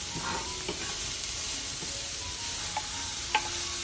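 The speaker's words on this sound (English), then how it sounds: "So I'm just stirring just to make sure it's good." Cauliflower fried rice with bean sprouts stirred in a pan, a soft continuous sizzle with a few light scrapes and taps from the utensil, close but quiet and with no talking.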